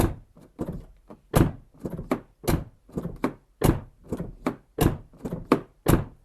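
A car door on a car with a sagging door pillar is swung open and shut over and over, a rapid run of solid thunks and clunks.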